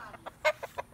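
Backyard chickens cluck in a handful of short, separate calls at an uneven pace, fairly close, with one louder cluck in the middle and no talk over them.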